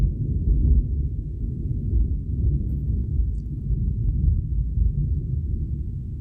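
Low thunder rumbles steadily outside during a storm, a dense, continuous roar with no sharp cracks, holding at a moderate level throughout.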